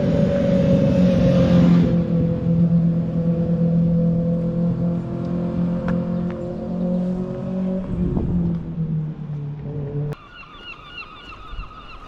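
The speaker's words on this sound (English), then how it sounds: "Gentleman coming past his motorbike there." A motorbike rides past on a coastal trail near Portreath harbour in Cornwall, its loud engine drone holding steady for several seconds before fading, with a brief horn-like tone near the end.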